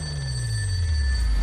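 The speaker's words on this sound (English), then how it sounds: "I want you to answer the phone for them. It rarely rings." A telephone rings with a steady electronic tone over a low background hum, sustained and fairly loud throughout.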